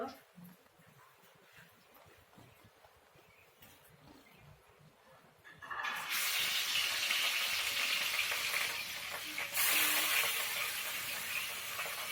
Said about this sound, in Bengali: ভাজার জন্য আমি তেল দিয়ে দিয়েছি এখন আমি একটু গরম হয়ে গেলে পরে মাছ দিয়ে দেব